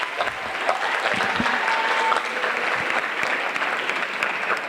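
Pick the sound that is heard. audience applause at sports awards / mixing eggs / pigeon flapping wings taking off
audience applause at sports awards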